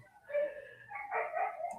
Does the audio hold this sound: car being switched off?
no